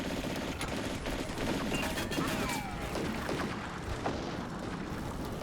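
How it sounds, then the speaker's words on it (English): Mortar fire and gunfire in the video game Combat Mission: Barbarossa to Berlin, a dense continuous wash of distant shots and rumbling blasts that stays steady throughout with no talk. "I think this mortar is now shooting at this guy."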